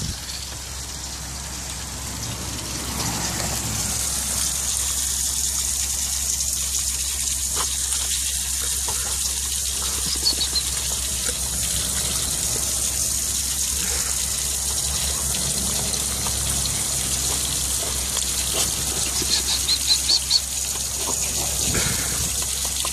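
Steady hiss of water spraying from a garden hose outdoors while a puppy plays in the stream, a constant rain-like patter lasting throughout with occasional splashy bursts and no talk.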